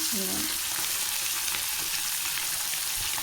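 Fish pieces fry in a pan of oil until browned, giving a close, constant crackling sizzle with a little stirring near the start and no talking.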